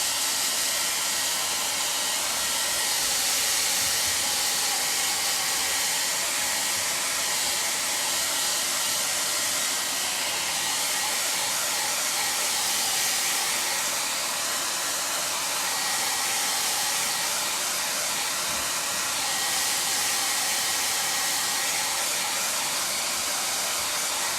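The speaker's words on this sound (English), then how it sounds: "So I'm going to dry this as much as I can." A hair dryer drying paint on a fabric pillow blows steadily and loudly for the whole stretch, a constant broadband whoosh with no talking.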